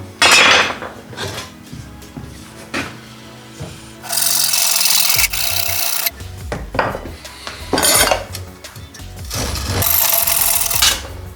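Hand saw strokes rasp through wood in repeated bursts, loud and close, with scraping and knocking between strokes and no talking.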